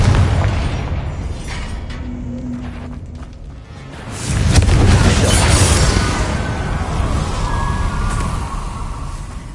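A Confringo spell explosion in Hogwarts Legacy, a deep booming blast that swells around the middle and rumbles on with a lingering roar, loud and without speech.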